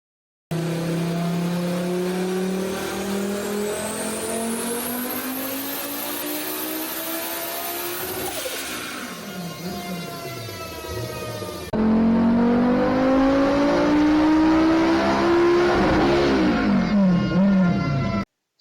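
A Volvo 850 T-5R with an AWD swap runs on a DynoJet chassis dyno, the engine climbing in long rising pulls, dropping off, then sweeping up again in a second, louder run.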